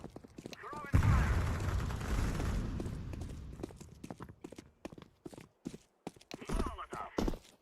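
A Molotov cocktail thrown in Counter-Strike bursts into a loud whooshing roar of fire that burns steadily for several seconds, then breaks into crackling, clattering bits, with a voice heard briefly near the end.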